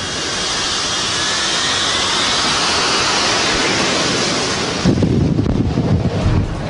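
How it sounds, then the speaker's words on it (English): Sea Harrier jet on a small ship's deck at sea, a loud steady roar of engine power, wind and rushing noise, that shifts abruptly near the end into a rougher low-heavy blast. "the Sea Harrier."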